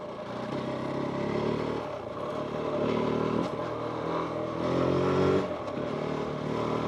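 A KOVE 450 Rally adventure motorcycle rides along a flat dirt road, its engine droning steadily with small rises and dips in revs while gravel clatter and wind rumble continue underneath, close and fairly loud throughout.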